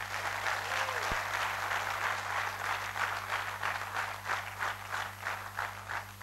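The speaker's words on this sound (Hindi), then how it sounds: "छत्तीसगढ़ वालों के लिए एक बार जोरदार तालियां हो" A large crowd gives sustained applause for the Chhattisgarh team at a Phoenix Infra Group company gathering, steady dense clapping throughout over a constant background hum.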